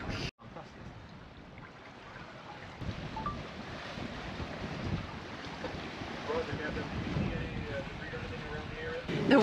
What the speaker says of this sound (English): You can really tell that the wind is picking up now.